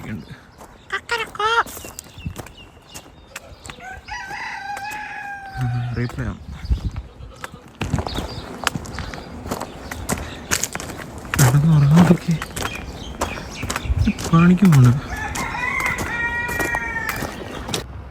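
Chickens cluck and call now and then around a farmyard, while people talk nearby and footsteps shuffle past.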